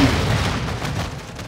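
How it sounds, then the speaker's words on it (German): An explosion in the video game Call of Duty MW2 gives a heavy, loud boom followed by a rumbling decay that fades over about a second and a half. "Da ist was explodiert."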